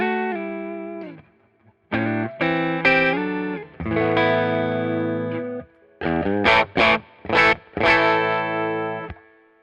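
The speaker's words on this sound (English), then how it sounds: "here's the sound of the Hot Rod Deluxe on its own." Electric guitar through a Fender Hot Rod Deluxe amp, playing distorted chords and phrases with effects, loud and close, in bursts separated by short pauses.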